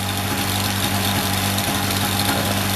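An OS .91HZ-R nitro engine runs in a model helicopter with 818 gearing at about 1,500 RPM head speed, giving a loud, steady buzzing drone with strong even harmonics and no pauses.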